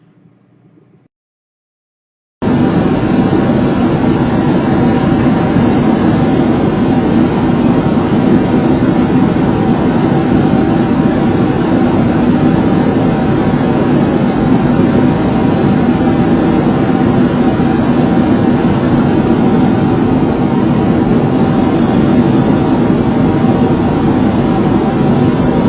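Inside a passenger plane's cabin in flight, a loud, constant engine roar and rushing air fill everything after a brief, near-silent moment at the start, holding steady without a break.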